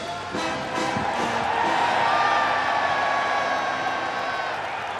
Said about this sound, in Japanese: 歓声が上がりました。